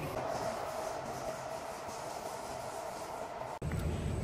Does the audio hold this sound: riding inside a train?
yes